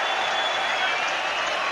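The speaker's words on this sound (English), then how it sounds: "Nelson Mandela is cheering along with the whole of the stadium" Stadium crowd at the 1995 Rugby World Cup final, South Africa versus New Zealand, a dense wash of cheering and applause, steady and roaring, with commentary over it.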